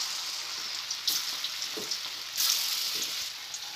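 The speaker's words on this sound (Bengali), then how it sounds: "আমি এবার একটা একটা করে এর মধ্যে এই তৈরি করা কোপ্তাগুলো ছেড়ে দেবো" Koftas frying in hot oil over a medium flame, a steady bright sizzle with occasional louder crackling bursts, close up and alone.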